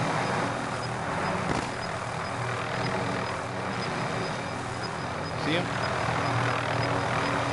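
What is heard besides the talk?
helicopter flying in a video game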